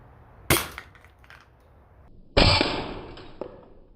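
A Sabre ApexPrime blaster fires, giving a sharp close crack followed by a second loud snap as the dart strikes a target, with a short rattling tail and faint clicks between.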